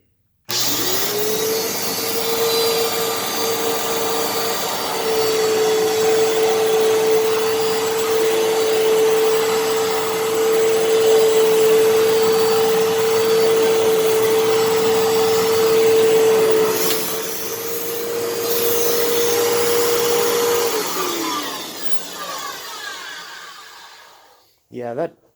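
A 1997 Fantom Fury vacuum cleaner runs loud and close with a steady whine and broad roar, its brush roll sounding rough and noisy; the tone dips partway through before the motor winds down at the end.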